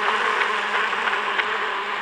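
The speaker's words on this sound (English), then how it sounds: "I hear bees." A steady swarm of bees buzzes in the video game Limbo, a continuous droning hum with slight pulsing, moderately loud and with no talking.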